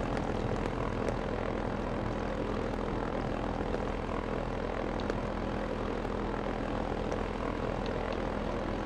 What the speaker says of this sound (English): This guy's put coal in the motor for the engine.